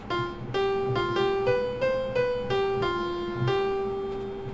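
Piano voice from an Arturia KeyLab 88 MkII MIDI keyboard, playing a short melody of about eight struck notes with clear attacks that ring and overlap, moderately loud and close, no voices.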